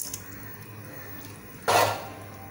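Rice tipped into a pot of boiling water while cooking chicken biryani, a single brief splash and hiss near the end over a quiet kitchen background.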